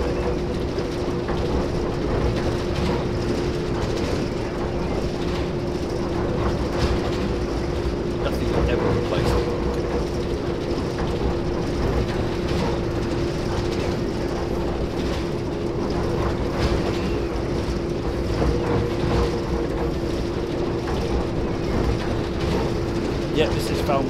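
A Class 08 diesel shunter, based on an 0-6-0 design, idles and works on the Falmouth branch docks in Train Simulator 2019, giving a steady loud engine drone with a constant tonal hum throughout, with a voice talking over it.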